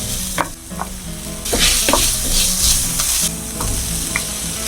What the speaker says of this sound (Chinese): 锅里加点油，炒蒜末和洋葱，洋葱炒到透明就可以了